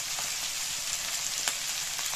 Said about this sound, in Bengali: ভালো করে নেড়ে চেড়ে আলু আর ফুলকপিটা আমি ভেজে নেব